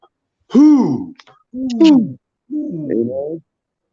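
A voice imitates an owl, giving three drawn-out hooting calls with short pauses between them, close and loud.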